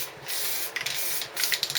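An aerosol paint can sprays a light dust coat onto Triumph motorcycle parts in a garage, making a steady close hiss that cuts off briefly and resumes in short bursts.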